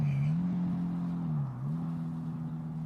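A motorbike engine runs close and steady with a low drone that sags briefly in pitch, then recovers, with no other sound over it.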